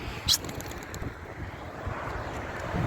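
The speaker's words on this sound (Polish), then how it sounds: "wiatr, deszcz, 2 km 800 autem, nie wiem jaka jest odległość, silny wiatr" Steady, rumbling strong wind in rain buffeting the microphone, with low gusty roar throughout and a brief higher burst near the start.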